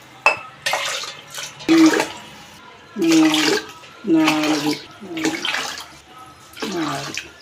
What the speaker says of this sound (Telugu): ఆరు కప్పులు వాటర్ వేసుకోవాలి